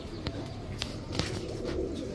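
Pigeons at a market selling racer, Giribaz, Damascene and other breeds coo faintly and steadily in the background, with a few sharp clicks or taps breaking through.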